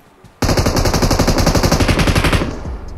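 Rapid automatic gunfire from a mobile battle royale game played on an iPhone 11 rattles out in one loud, sustained burst of evenly spaced shots lasting about two seconds, then stops.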